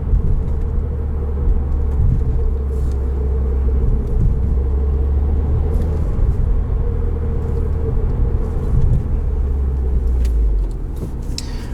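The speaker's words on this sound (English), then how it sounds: "distinct sound from this flat 4" A 2020 Subaru WRX Limited manual's flat-four engine drones steadily with a low, throaty rumble while driving, continuous and fairly loud, easing off slightly near the end.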